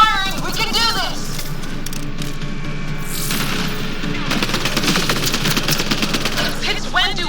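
Gunfire crackles in Mass Effect Andromeda as rapid bursts of shots, close and loud, rattle through most of the stretch, with combat voices shouting over and between the volleys.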